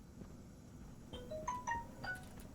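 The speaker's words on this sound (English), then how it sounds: "Oh, my phone is not on silent. So, yeah, you probably just heard that." A mobile phone ringtone plays a few short, bright melodic tones, close and fairly clear, over a low steady background hum, with no talking.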